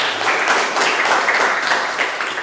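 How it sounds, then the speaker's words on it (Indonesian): Students in a classroom burst into brief, dense, energetic clapping that stays loud and steady throughout. "tepuk tangan untuk kita semua"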